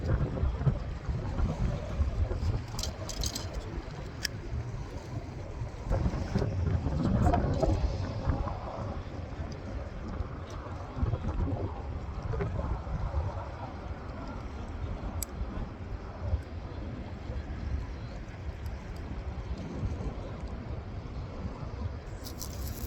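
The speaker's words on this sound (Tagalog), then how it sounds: "Hangin ang paligid" Steady wind gusts across the microphone beside open water at Buhairah Khobar, a continuous rough roar with a stronger surge partway through, alone without clear talk.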